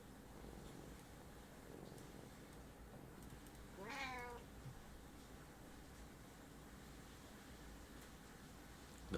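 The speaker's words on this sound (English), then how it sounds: "Hello, kitten." A single short cat meow rises clearly midway over a quiet hissy room background, faint and alone with no talk.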